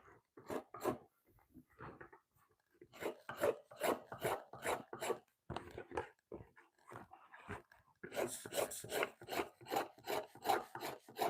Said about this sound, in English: Scraping buckskin is what we're doing here today.